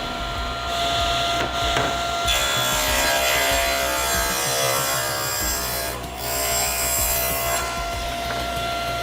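Power saw ripping wood into strips for drawer boxes, a steady loud broadband cutting whine running through most of the stretch with brief dips between passes and no talk.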